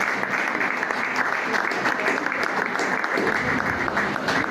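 A church congregation claps steadily and densely throughout, a continuous mid-distance wash of applause at even loudness from start to finish.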